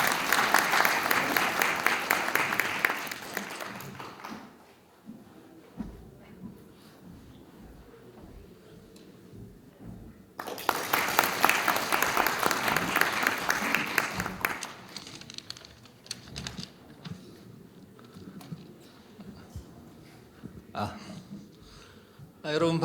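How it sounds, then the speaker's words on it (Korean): Audience applause at the opening ceremony of a 2023 autumn academic conference, with two loud bursts of clapping from a large crowd, each lasting several seconds, separated by quieter stretches of room noise and faint speech. "더 큰 박수 부탁드립니다."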